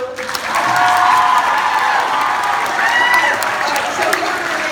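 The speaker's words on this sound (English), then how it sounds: "Clap for the adults too." Audience at an opening ceremony showcase applauding the adults, with steady clapping and some cheering from a crowd, holding at an even level throughout.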